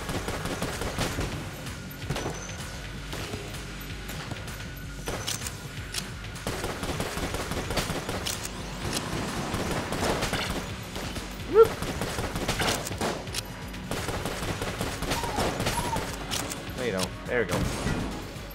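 Wind-up gun firing in Enter the Gungeon on Nintendo Switch, a dense run of rapid game shots and impacts layered over busy background game audio and music for most of the stretch, with one sharper thump midway.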